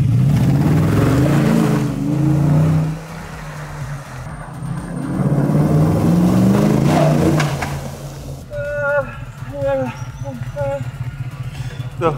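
Mercedes G500 rolling in at low speed, its engine a steady low rumble under loud talk through the first half, followed by a mechanical whine and rhythmic clatter near the end.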